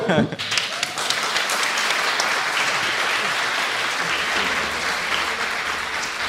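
Sustained, dense applause from an audience at a medieval-themed joust show in Rennes, steady and loud throughout, with no speech.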